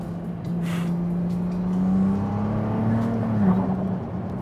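Ferrari 296 GTS engine revving under way, a steady droning tone that climbs in pitch and holds, loud and close with no talk over it.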